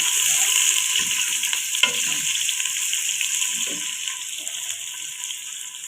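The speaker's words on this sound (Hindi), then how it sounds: "अब हम प्याज को ब्राउन करेंगे।" Onion browns in a pan with garam masala, a steady loud sizzling hiss with light stirring scrapes and occasional crackles, and no voices.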